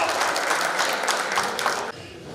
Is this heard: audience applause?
yes